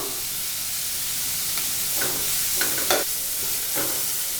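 Carrots and beans fry in a hot pan for Chinese-style vegetable fried rice, with a steady loud sizzle throughout and occasional scraping stirs of a spatula over it.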